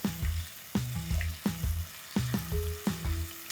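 Green chillies, ginger-garlic paste and a bay leaf sauté in hot oil for a spicy Indian paneer dish, giving a steady close sizzle broken by repeated stirring scrapes in an uneven rhythm.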